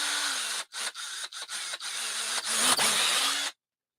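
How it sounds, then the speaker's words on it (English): A high-pitched rotary tool whines steadily with several brief stops and restarts, its motor pitch dipping and recovering, then cuts off abruptly. "I was doing some Dremel work earlier."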